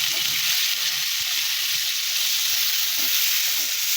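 Kashmiri chilli powder and coriander powder frying in hot oil, giving a loud, close, continuous hissing sizzle with faint clinks underneath.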